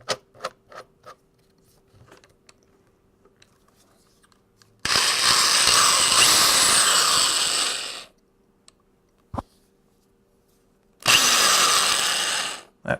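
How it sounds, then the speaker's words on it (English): A power drill spins up loud and close for about three seconds during an arcade cabinet restoration, stops, then runs again in a shorter burst, with small clicks and handling taps in the quiet between. "Okay, so let's throw this into our drill here"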